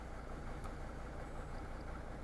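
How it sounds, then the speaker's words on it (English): A vehicle engine idles quietly and steadily just after being started while the alternator charges a LiFePO4 battery, a low continuous hum with no talking. "We just turned the vehicle on."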